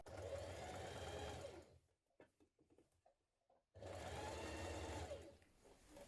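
A sewing machine stitches a blouse seam with a 1 cm seam allowance, running steadily in two close, loud bursts separated by a brief pause with light handling noises.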